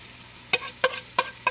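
Carrots and celery stir-fried in a pan: four sharp scraping stir strokes land at a steady pace over a faint background sizzle, close and alone with no voices.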